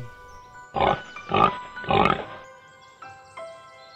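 A cartoon pig character oinks in three loud, close grunts in quick succession, followed by two fainter, shorter oinks.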